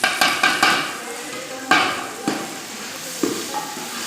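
Onions and chilies frying in a pan for chicken pulao, a low sizzle under several sharp clanks and scrapes of a spoon stirring against the metal pan.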